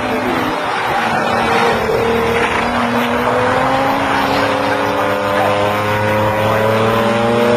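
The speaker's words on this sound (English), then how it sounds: "out of the old hairpin will go XJ12" A Jaguar XJ12 races round Donington circuit in a night saloon race, its engine roaring loud and steady with a rising, shifting pitch as it accelerates, while a commentator talks over it.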